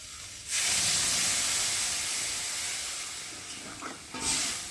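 Water poured onto sautéed vegetables in a hot pan for shukto sets off a loud, sudden hiss that steadily fades into a softer simmer, followed by a second short burst near the end.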